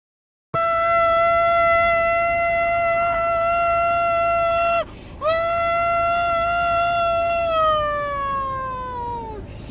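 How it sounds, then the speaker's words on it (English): A tornado siren alarm wails loud and steady, holding a sustained harmonic tone that cuts out briefly midway, then resumes and slowly winds down in pitch toward the end. "That's our new tornado siren."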